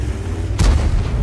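A tank's main gun firing in World of Tanks, a single heavy booming shot that bursts out over a steady low rumble of engine and battle ambience.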